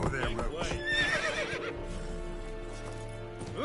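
Roach the horse from The Witcher 3 gives a loud whinny up close, with steady clip-clop hoofbeats of walking carrying on beneath it.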